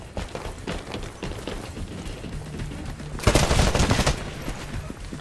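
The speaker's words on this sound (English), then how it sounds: "I was just shooting my teammate." Rapid gunfire and footsteps in the Titanfall shooter game, with a dense stream of shots and a louder burst of fire near the end, steady and close with no voices.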